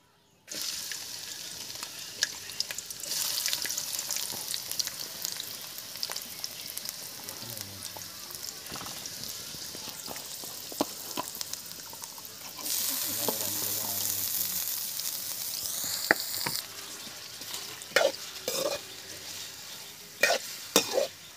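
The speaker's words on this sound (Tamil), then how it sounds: "செக்கில் ஆட்டின சுத்தமான கடலை எண்ணெய், அது ஹீட் ஆகிடுச்சு. கொஞ்சம் வெங்காயத்தை தள்ளி போடலாம்." Onions fry in hot cold-pressed groundnut oil, a steady close sizzle with bursts of louder crackling and scraping as a spoon stirs the pan, no voices over it.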